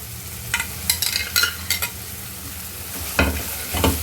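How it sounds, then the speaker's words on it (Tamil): Bitter gourd pieces tipped into frying tomato and onion, followed by a run of scraping, clattering stirs against the pan over a low sizzle. "இந்த ஸ்டேஜில் நம்ம பாவக்காய் சேர்த்துக்கணும்"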